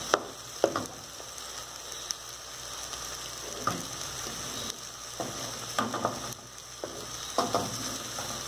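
Eggs with calabresa sausage fry in a pan under a steady sizzle, with sharp scraping stirs and clinks recurring every second or so, no talking.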